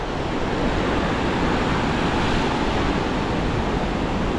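Choppy sea waves roll in at a beach under red-flag conditions, a dense, constant roar of surf with some wind noise, steady and fairly loud with no distinct breaks.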